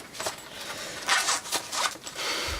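A metal tape measure is pulled out and handled on a workbench during a timeswitch repair, giving several short zipping, ratcheting scrapes that come close and moderately loud, with no talking.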